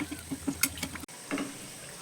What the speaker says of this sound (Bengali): আর দেখো সাইড থেকে একটু গরম তেল প্রত্যেকটা স্ন্যাক্সের উপরেই ছড়িয়ে দিচ্ছি, যাতে উপরের দিকটাও সুন্দর করে ভাজা হয়।